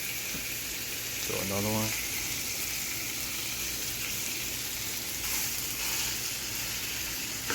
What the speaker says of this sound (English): That nice searing going on.